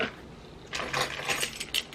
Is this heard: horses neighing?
no